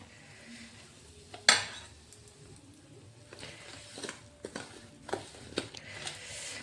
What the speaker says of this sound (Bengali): এইভাবে তেলের মধ্যে দিয়ে আমি মশলাগুলোর সঙ্গে তেল মিশিয়ে নেব